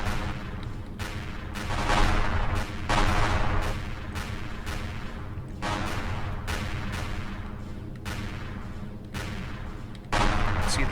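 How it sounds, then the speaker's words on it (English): Laser cannons in the Empyrion Galactic Survival game fire at a ship's shields in a rapid stream of sharp, punchy blasts, separated by brief gaps, loud and continuous. "the laser cannons are actually getting into his shields a little bit"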